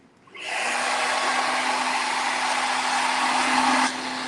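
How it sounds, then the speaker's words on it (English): A blow dryer set to hot at its slow speed switches on and runs with a steady, even whooshing roar, close and loud. It holds for a few seconds before easing slightly at the end, with no talking. "I'm going to take my blow dryer, and I'm going to set my blow dryer to hot and a slow setting"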